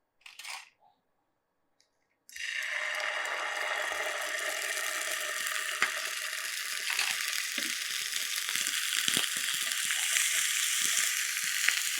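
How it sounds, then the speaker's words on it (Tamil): Ginger and garlic drop into a hot frying pan already used for frying, setting off a steady, crackling sizzle that holds for about ten seconds after a short clatter, close and continuous. "அதே பேனில் நம்ம என்ன செய்ய போகிறோன்னா, வச்சுருக்கிற இஞ்சி பூண்டு அதை அப்படியே சேர்த்துருங்க"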